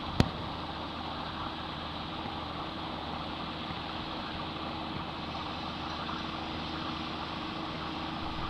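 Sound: tractor engine idling while making a turn

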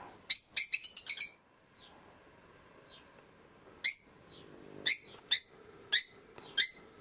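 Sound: birds singing outside an open window

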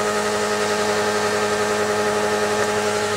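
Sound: car engine running with apple juice as engine oil

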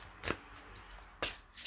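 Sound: shuffling a deck of colour mirror cards

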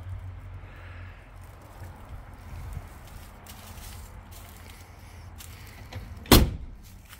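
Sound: car door closing

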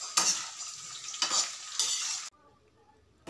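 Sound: cauliflower frying and being stirred in oil

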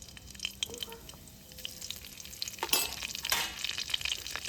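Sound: nigella seeds and dried red chilli frying in oil

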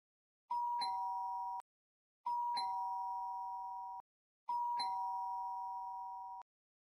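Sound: doorbell ringing in Roblox video game

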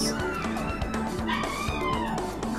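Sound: dog barking and whimpering

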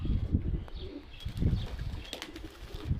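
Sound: pigeon chicks

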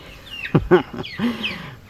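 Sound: chicken clucking

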